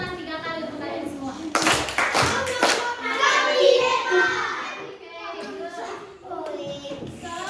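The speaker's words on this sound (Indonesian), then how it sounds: "Give 3 claps for all of you." A class of children claps together in a few sharp, loud bursts, with young voices chattering and talking around the claps.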